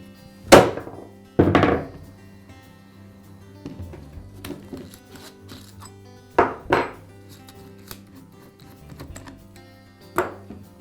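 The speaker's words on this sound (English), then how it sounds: "I'll strike the Allen wrench with the side of my mallet" Mallet striking an Allen wrench set in a DeWalt cordless drill's keyless chuck to break it free from the spindle threads, sharp close metallic knocks in a few spaced bursts, with quieter handling clatter between.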